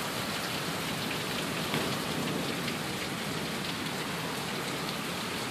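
Steady heavy rain pours down in Sioux Falls during a hailstorm, a dense, even roar of drops hitting surfaces close by throughout, with no voices.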